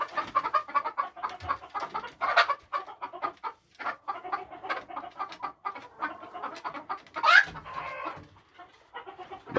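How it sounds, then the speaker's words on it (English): Silver phoenix hens cluck in a steady run of close, overlapping calls, with one sharper squawk near the end; no one speaks. "These are silver phoenix hens right here."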